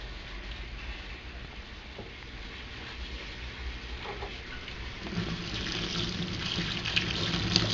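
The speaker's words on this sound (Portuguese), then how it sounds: "Enquanto isso, vai encher o tanquinho." Collected rainwater pours into a washtub in a steady, hissing rush that slowly grows louder and fuller as the tub fills, heard close and alone.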